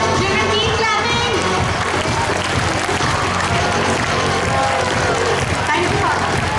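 Children clapping at a school retirement function, dense sustained applause with cheering and shouting voices mixed in, loud and continuous from start to end.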